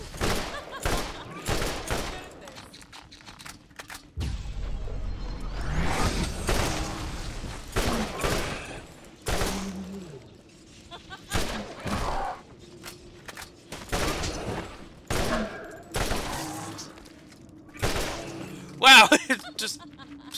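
Rapid bursts of gunfire from the video game Borderlands crack repeatedly in irregular volleys across the span, mixed with game effects, while someone talks throughout.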